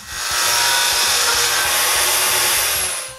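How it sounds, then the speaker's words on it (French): A power saw cuts a strip of MDF for a window paint jig in a woodshop, giving a loud, steady broadband whine that holds for about three seconds with no talking. "La première chose que je fais pour mon gabarit de peinture de fenêtre est de me couper une lisière de MDF."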